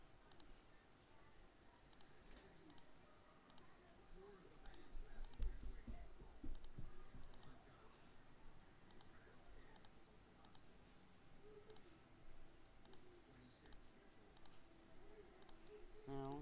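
Light computer mouse clicks while editing in Photoshop, a steady series of small, evenly spaced ticks, quiet and close, with a voice talking over them.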